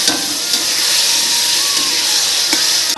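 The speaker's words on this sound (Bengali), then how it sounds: "মশলাটা কষানো হয়ে গেছে দেখো তেল ছেড়ে দিয়েছে" Spices frying in oil in a pan for a Bengali paneer curry, a steady close sizzle and hiss throughout with faint stirring scrapes, no talking.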